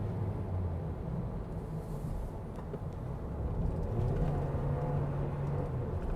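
Toyota Innova seven-seater MPV driven in power mode on a hill road, its engine a steady low drone with road rumble that swells slightly near the end, heard from inside the cabin with no talking.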